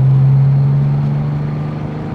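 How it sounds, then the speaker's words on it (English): A 1963 Jaguar E-type coupe's engine drones steadily from the passenger seat on a farm road while accelerating through the gears. The hum is loud and close, easing slightly toward the end. "Showing you going through the gears first, second,"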